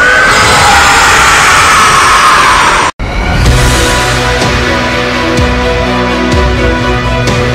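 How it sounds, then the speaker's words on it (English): Animated Vegeta lets out a loud, sustained scream while powering up, cut off by a sudden break, then followed by a lower rumbling energy roar. "Vegeta still had one power behind his sleeve, as Vegeta went and he screamed"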